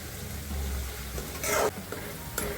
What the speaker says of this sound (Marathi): मोठ्या गॅसवरतीच तळायचा आहे हा